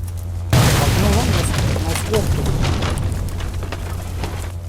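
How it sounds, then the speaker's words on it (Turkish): A sudden loud blast of a car exploding in a video game on the Erangel map erupts and then rumbles and crackles steadily for several seconds, with burning debris. "araba patlıyor kaç"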